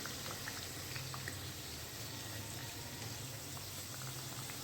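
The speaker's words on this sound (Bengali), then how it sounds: "আমি বাকিগুলো সব ভেজে তুলে নিচ্ছি" Soft, steady bubbling and sizzling of palm-fruit pithas frying in hot oil, faint and continuous, with no one talking.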